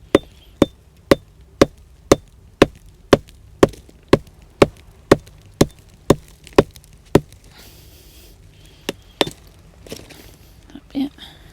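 A hammer strikes rock over and over at Totland Bay on the Isle of Wight to free a fossil gastropod, giving about sixteen sharp, evenly spaced cracks up close, followed by a few scattered knocks and light handling sounds.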